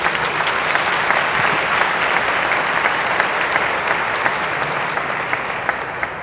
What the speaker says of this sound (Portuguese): Você quer dar um aplauso a Jesus por isso?